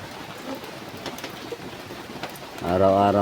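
Rain patters steadily on surfaces close by as a dense, even hiss with scattered drop hits. A voice starts speaking over it near the end.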